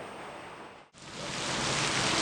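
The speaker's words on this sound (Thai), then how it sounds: "หลังจากที่ผมลงจอดดูนะครับฝนตกพอดีเลย" Rain falls steadily outdoors right after a drone lands, a broad hiss that cuts out briefly and then returns, growing louder and denser, with no talk.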